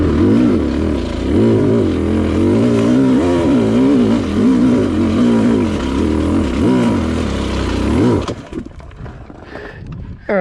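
A Sherco dirt bike engine runs loud and close during a downhill ride, its revs rising and falling in a steady wavering drone for about eight seconds, then cutting out abruptly to faint rustling.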